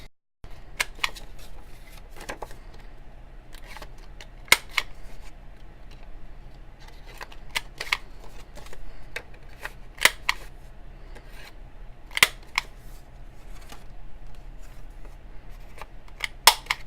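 A corner punch rounds the corners of paper journaling cards, giving sharp, isolated clicks and snips at an irregular pace against quiet room tone, with no talking.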